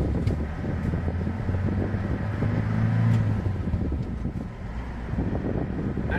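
An Isuzu Traviz on a road test, heard from inside as a steady low engine drone with road and wind rumble, swelling slightly midway, loud and continuous with no talk.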